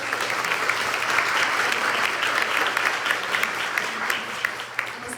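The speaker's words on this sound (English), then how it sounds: "Let's all give them a round of applause." An event audience applauds in a steady, dense burst of clapping that holds its level for several seconds before thinning slightly at the end, with no talk over it.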